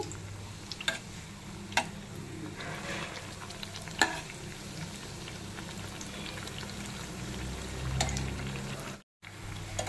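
Bread pieces frying in a mix of ghee and oil, a quiet continuous sizzle with occasional light clicks of a spoon or stirring, and a brief dropout near the end.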